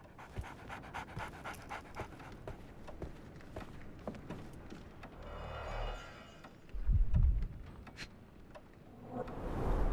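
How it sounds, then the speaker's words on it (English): A dog in a Sherlock Holmes video game pants in quick, soft, rhythmic breaths close by, with a few footstep-like thuds and a brief low rumble partway through. "So, Barnes has a dog now."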